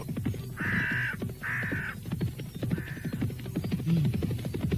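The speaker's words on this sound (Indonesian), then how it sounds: "Burung-burung elang yang bersarang di puncak-puncak tebing berterbangan dengan suara-suara yang menyeramkan." Eagles crying as a sound effect in an Indonesian audio drama set near clifftop nests, three harsh, drawn-out calls over a low rumbling bed with scattered thuds.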